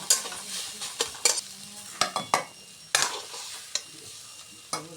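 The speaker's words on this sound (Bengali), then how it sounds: "চলো, আমার শাক ভাজা রেডি হয়ে গেছে।" A spatula scrapes and clanks against a pan of sizzling kalmi greens, giving a series of sharp, close stirring strikes spaced irregularly over a soft, continuous frying hiss.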